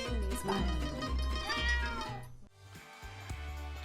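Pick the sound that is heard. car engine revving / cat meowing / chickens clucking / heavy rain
cat meowing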